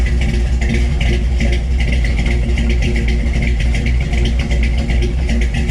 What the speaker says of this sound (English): Love the sound of that motor.